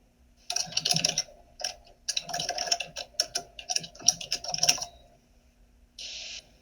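Bursts of clicky typing on a computer keyboard, close and crisp, irregular runs of keystrokes separated by brief pauses, ending with a short buzzy tone, no talking.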